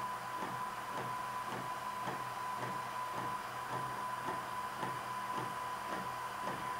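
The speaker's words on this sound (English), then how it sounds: "You can see the printer. It's printing exceptionally fast." A Fuji Frontier DX100 photo printer runs as it prints, a steady whirring hum with a faint high tone and a regular series of soft mechanical ticks, heard close with no talking.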